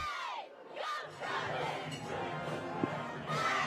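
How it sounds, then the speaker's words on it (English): At a Friday night high school homecoming football game, a large crowd roars and shouts continuously, loud and energetic, with a few clinks in the mix. "There's a good shot of some of the crowd tonight. They are fired up"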